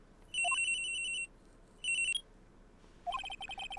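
A cell phone rings in the Phoenix Wright courtroom video game: three bright electronic ringtone bursts, each opening with a short rising chirp, separated by brief pauses over a quiet background.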